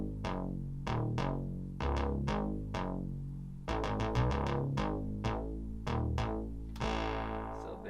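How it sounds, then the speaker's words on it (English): Funky synth bass from the Reason stock patch Bara Bruh bass plays alone, a distorted, chorused line of short plucked notes in a bouncy, syncopated rhythm, close and steady, with no voices. "I just tried to use like a real funky synth bass. This one's called Bara Bruh bass in Reason, another stock sound"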